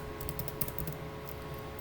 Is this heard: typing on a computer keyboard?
yes